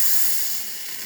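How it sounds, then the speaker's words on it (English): Steam wand on an Expobar espresso machine hissing steadily at strong pressure, a close, loud broadband rush that eases slightly partway through, with no talk. "Steamer of this machine with great pressure, excellent temperature as well, excellent pressure coming out of them"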